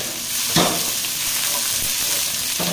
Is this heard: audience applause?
no